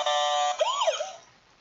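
Toy ambulance siren, loud and close, holds a steady electronic tone, then sweeps up and down in a single wail before fading out over under two seconds.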